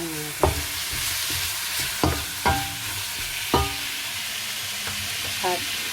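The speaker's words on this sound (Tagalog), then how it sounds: "Haluin lang natin." Chicken with pineapple and aubergine being stirred in a frying pan, a steady sizzle under several distinct scraping and clacking strokes of the utensil, close up, with no speech.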